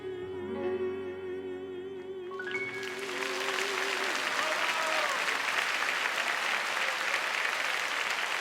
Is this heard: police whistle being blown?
no